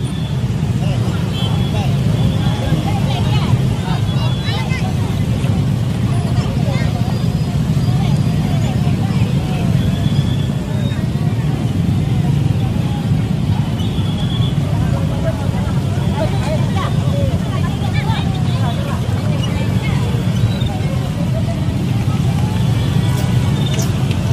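Heavy, jammed traffic of cars and motorbikes at a city roundabout in Banjarbaru, a constant loud low engine rumble with no break across the whole stretch, and a voice talking over it.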